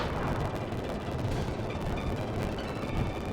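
Five-inch naval cannons firing in a video game, a dense, continuous roar of booming blasts that overlap with no gaps, loud and sustained throughout.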